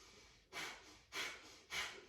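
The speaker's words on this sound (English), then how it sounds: "it's those active exhales" Three forceful nasal exhales of Kapalabhati yoga breathing come in a quick, even rhythm, close and fairly soft, with brief quiet gaps between them.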